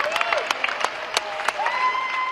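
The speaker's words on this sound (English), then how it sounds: "It supposedly showed Italians applauding the Chinese anthem," Italians applauding and cheering their own healthcare workers, a crowd clapping steadily with sharp louder claps and a few high whistles or cheers over the steady patter, moderately distant.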